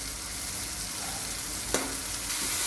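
Tadka frying in a pan as turmeric is stirred in, a steady hiss of sizzling oil with one sharp utensil scrape near the end.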